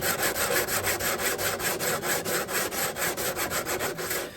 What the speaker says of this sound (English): now I'm just going to sand this back